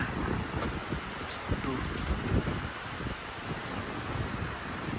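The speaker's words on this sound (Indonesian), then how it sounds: "Gila anginnya" Strong wind buffeting the microphone with a constant roaring rush, some thumps, and a voice faintly underneath.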